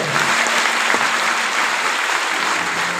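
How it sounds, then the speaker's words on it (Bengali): Steady, dense applause fills an auditorium during a training event, a continuous even wash of many hands clapping with no talk over it. "বড় হাততালি হবে ওর জন্য, হাততালি হবে"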